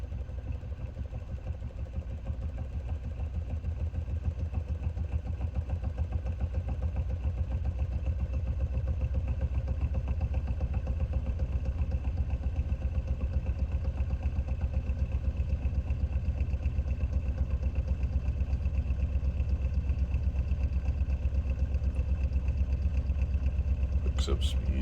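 Magnet ramp pulse motor runs with a steady, rapid mechanical buzzing hum that rises slightly as it picks up speed, with a couple of sharp clicks near the end.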